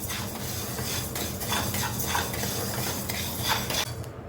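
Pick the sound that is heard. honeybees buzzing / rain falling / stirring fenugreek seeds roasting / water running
stirring fenugreek seeds roasting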